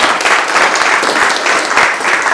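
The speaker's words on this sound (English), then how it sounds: "Let's give our governor a round of applause, please." Audience at a Paterson, New Jersey reentry event giving the governor a warm round of applause, dense steady clapping from many hands filling the room, with faint voices underneath.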